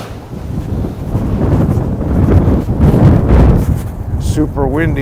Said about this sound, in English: Super windy on Diddle Island today.